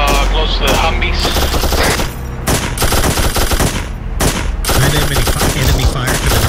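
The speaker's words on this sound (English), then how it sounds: "Enemy fire to the north. There is enemy fire to the north." Dense enemy automatic gunfire in ARMA 3 rattles in loud, continuous bursts with brief pauses, close and overwhelming, with voices talking faintly underneath.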